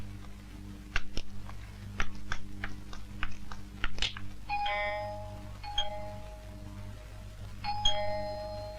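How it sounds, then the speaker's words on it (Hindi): An electronic doorbell chimes twice in a row, a ringing tone after some clicking and tapping sounds, in an indoor room with a low steady hum beneath. "देख तो बाहर कौन घंटी बजा रहा है।"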